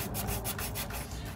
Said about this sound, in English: You're gonna wanna rough up that port.